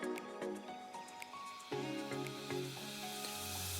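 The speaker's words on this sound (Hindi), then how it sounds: "अदरक, लहसुन और मिर्च, प्याज, ये पेस्ट हम इसमें डाल देंगे, ऐड कर देंगे और इसको अच्छी तरह से भूनेंगे" Ginger, garlic, chili and onion paste sizzles in a kadhai while being fried for chicken curry, a steady close hiss with a few brief clinks and stirring sounds, no talking.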